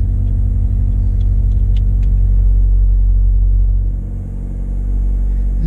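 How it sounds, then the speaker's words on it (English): A car engine idles steadily as a low, continuous rumble with a brief dip near the end and no talking. "turn the car on"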